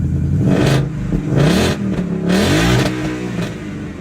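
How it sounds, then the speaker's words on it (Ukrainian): A cold Ford Fusion with a manual gearbox is revved from a cold start in a series of sharp throttle blips, its engine note rising and falling close up, three or four revs within a few seconds with no talking. "На холодному, да? нормально так газувати."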